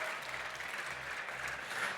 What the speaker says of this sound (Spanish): Un fuerte aplauso para Álvaro.